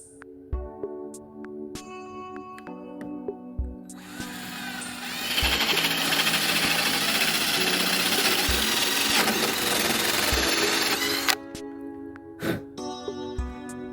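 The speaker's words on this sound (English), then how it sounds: "I'm going to drill a hole." A drill whines loudly for several seconds, cutting a hole into a 1984 Grady White boat hull, between quieter clicks and knocks; close by, with no speech.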